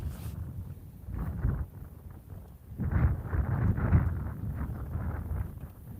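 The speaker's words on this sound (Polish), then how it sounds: "Nie wiem, czy wy też czujecie ten wiatr tam przed ekranami" Gusty wind buffeting the microphone at an outdoor winter fishing spot, with low rumbling surges that rise and fall over several seconds and no voices.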